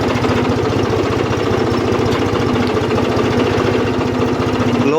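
A farm tractor engine runs steadily in low gear on a village field track, a loud, close, even chugging with a rapid regular knock and no pauses.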